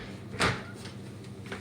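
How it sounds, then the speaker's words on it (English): A galley pocket door in a converted bus slides with a short thud near the start, then quieter rolling and clicking follows. "Now you can operate the galley pocket door from here."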